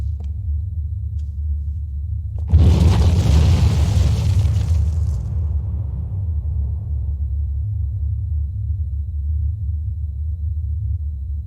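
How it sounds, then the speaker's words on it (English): A C4 charge detonates in C&C Tiberian Sun, one loud sudden blast breaking over a steady low rumble, then a long rolling decay that fades back into the background drone. "The C4 in this device will detonate in 5 seconds."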